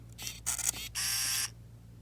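A Ricoh GR1 film camera whirs briefly as its autofocus moves with a few soft ticks, then the film motor runs in a steady half-second buzz, close and quiet over a low background hum.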